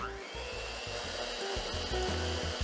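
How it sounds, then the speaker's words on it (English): An electric hand mixer whisks cream in a bowl with a steady motor whir and faint rhythmic beater knocks against the bowl, heard up close with no talking. "we're gonna use the hand beater again, and we're going to whisk this up"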